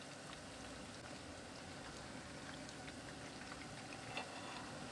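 A steady, dense crackle and sizzle of chicken frying in hot oil over high heat, continuous and fairly quiet throughout with no talking.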